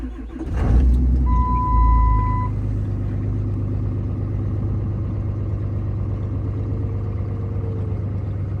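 A 2007.5 Dodge Ram 2500 with a 6.7 Cummins diesel, pusher compound turbo setup and 4-inch straight pipe, started in sub-freezing cold, revs up loudly at first and then settles into a steady, deep, rumbling idle.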